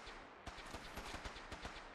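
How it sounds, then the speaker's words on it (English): Faint gunshots fire in the video game Fallout 4 as a rapid series of sharp cracks over a quiet, hissy background, like a distant firefight. "Why do I feel like the gunshots are getting louder the closer I get?"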